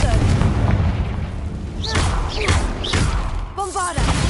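Booming spell blasts from the Hogwarts Legacy video game, several heavy thuds layered with crackling impact noise, with brief voiced spell shouts and grunts breaking in between the explosions.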